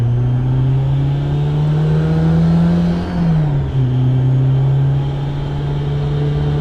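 Steady engine drone inside a Honda S2000 CR while driving, a strong sustained low hum with a brief dip in pitch midway before settling again, with no talking.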